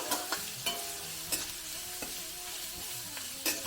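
Chopped onions fry in a pan with a soft continuous sizzle while a spoon stirs them, making periodic scraping taps at a fairly low level.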